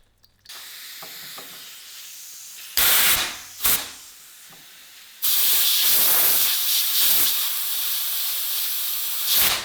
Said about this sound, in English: check to see if this sonic cleaner works on the brake caliper